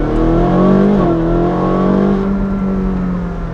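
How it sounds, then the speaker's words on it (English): A Ferrari 458 Speciale's naturally aspirated V8 with a Novitec exhaust sings loud and close, holding a rich harmonic rev that shifts pitch briefly and then settles into a sustained high drone. "but this naturally aspirated motor"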